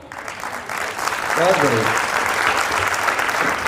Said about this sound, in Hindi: और एक बार तालियां अपने सुनने के स्तर पे भी बता दीजिए